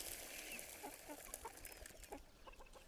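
Chickens cluck softly around their feeding bowls, scattered short calls rising over a faint, steady background.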